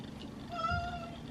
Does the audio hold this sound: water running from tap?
no